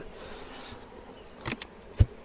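Honey bees buzz around a hive at a vineyard, a low continuous hum punctuated by a few close passes and brief knocks.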